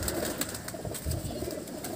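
High-flyer pigeons, newly brought in by breeders, coo in a low, rumbling chorus close by, steady throughout with faint rustles and taps over it.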